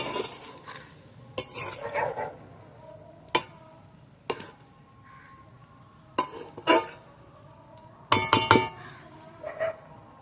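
A spoon scrapes and clinks against a pot while pulao rice is stirred. Sharp metallic knocks come in irregular bursts, with soft shuffling of rice between them and a faint sizzle in the background.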